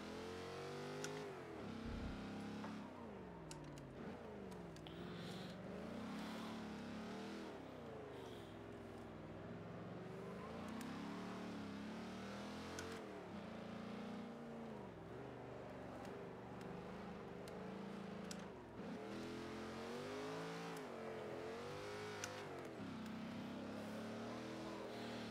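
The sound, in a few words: car driving autocross in video game Forza Motorsport 7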